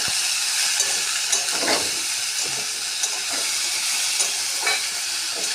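Pumpkin frying in a pan with turmeric and salt gives a constant dense sizzle, broken by occasional stirring scrapes and light clinks, close and fairly loud with no voices.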